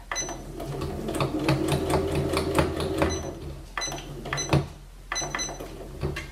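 A sewing machine runs in quick bursts while quilting with a guide bar, stitching down bias tape; its rapid mechanical rattle starts and stops several times, close and fairly steady, with no talking.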